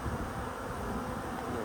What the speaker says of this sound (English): I'm going to inevitably have to scoop out a few bees